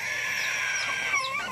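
Native chickens cluck and murmur nearby in a steady, busy chorus at feeding time, with a few higher squawks toward the end.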